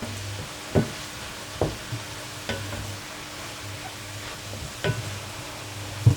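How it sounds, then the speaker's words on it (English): A spoon scrapes and stirs meat and potato pie filling in a pan, several distinct clacks and scrapes over a low, steady sizzle, close up with no talking. "Give that a stir."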